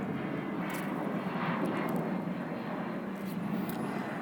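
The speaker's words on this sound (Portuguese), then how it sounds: "o avião, vamos aguardar ele passar e eu sigo" An airplane passes overhead, a steady, broad engine roar that holds at an even, fairly loud level throughout, with no talk over it.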